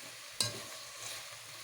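Mubakbaka sauce stirred in a pot, a brief utensil clink and scrape over a low, steady simmering sizzle, close and short, with no talk.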